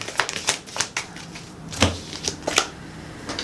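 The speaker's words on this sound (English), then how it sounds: "Let's shuffle a little bit more." Crisp riffling and snapping of tarot cards being shuffled, a series of quick clicks and flutters close by, with no talking.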